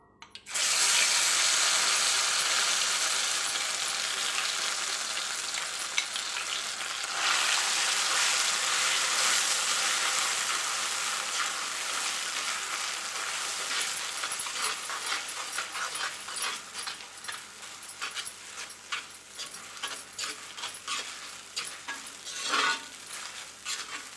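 Raw mango pieces fry in hot sesame oil with curry leaves, giving a loud, continuous sizzle and hiss with occasional stirring scrapes that gradually settle over the whole stretch.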